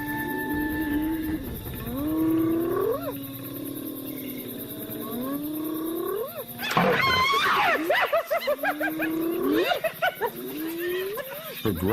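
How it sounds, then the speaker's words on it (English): A weary leopard growls at a mob of hyenas in the wild: long, rising snarling growls come close and loud, then a harsher burst of overlapping yelps, whoops and cries that suggests the hyenas answering. "Her growl is stronger than she is."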